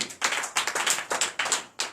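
A congregation claps in acclamation during a night prayer service in Benin, with sharp, rhythmic bursts of clapping in roughly even beats, fairly close and alone without speech.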